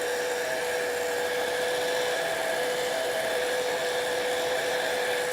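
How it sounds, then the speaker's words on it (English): A heat gun blows steadily to dry a handmade Easter card, a constant loud airy whoosh with a faint high whine, unbroken for the whole stretch and with no voices. "let me see if I can find my heat gun, which is always right here"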